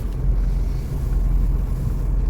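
Riding pillion on a motorcycle, with a low engine rumble and heavy, buffeting wind noise on the microphone that stay constant and fairly loud throughout.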